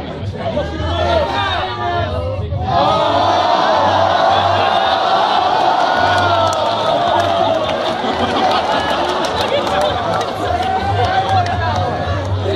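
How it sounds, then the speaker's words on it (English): A crowd at a live comedy meetup cheers for the honey badger with a loud, sustained roar of clapping, whoops and chatter that swells after a brief dip and stays strong throughout. "Round of applause for the honey badger."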